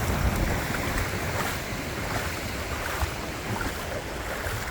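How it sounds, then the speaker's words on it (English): A narrow creek swollen by a big thaw rushes over small waterfalls, a dense, steady broadband roar of running water close by with no pauses and no voices. "waterfalls where the water is just coming from everywhere"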